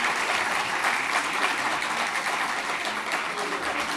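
A packed cinema audience gives dense, sustained applause for actress Türkan Şoray, a loud, continuous wash of clapping that runs unbroken throughout.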